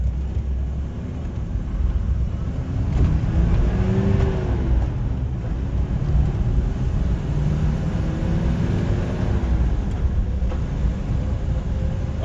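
A 1993 Land Rover Defender 110 pulls away in first gear, giving a continuous rumbling engine drone with a slowly rising tone heard from inside the vehicle against steady road noise.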